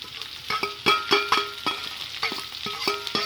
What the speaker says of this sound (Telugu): తురిమి పెట్టుకున్న కొబ్బరి కూడా వేసి ఇది కొంచెం ఫ్రై అవ్వాలి